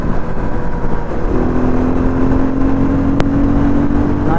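A motorcycle pulling hard in fifth gear on an open-road ride gives a loud, continuous engine drone with a steady rising whine, close and unbroken throughout.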